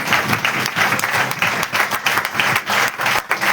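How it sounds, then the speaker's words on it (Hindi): A church congregation claps loudly in thanks to God, with dense, energetic applause that swells and pulses throughout and holds a strong, close crowd sound. "आइए जोर से ताली बजाए परमेश्वर का धन्यवाद करें।"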